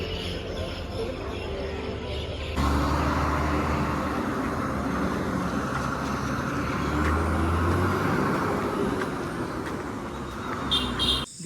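Red state transport buses idle and move at the Dapoli bus stand, with a deep diesel rumble swelling as one pulls close. Faint bird calls and background voices drift through, and a brief air-brake hiss comes near the end.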